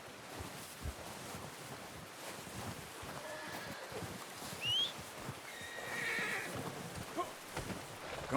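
A horse in Red Dead Redemption 2 whinnies in a short rising call midway, with a second longer neigh shortly after, over soft hoof clip-clops and wind-like ambient noise.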